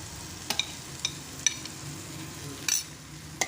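Turmeric, chilli and pepper powder sautéing in a pan give a soft, low sizzle, punctuated by a few light clinks of a spoon against the metal as the spices are stirred.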